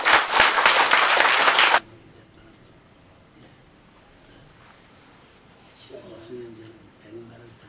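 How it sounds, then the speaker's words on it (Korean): A congregation at a religious holiday celebration bursts into loud, dense applause that stops abruptly after about two seconds, leaving quiet room tone and faint speech afterward. "오늘 이 명절을 맞이해서 크게 경하에 박수를 올려주시기 바랍니다."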